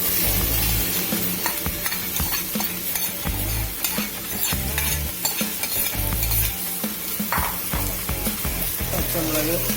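Sliced onions sizzle loudly as they fry in a pan for beef curry, with a spoon scraping and stirring in repeated strokes throughout, close and continuous.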